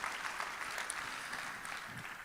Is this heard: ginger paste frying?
no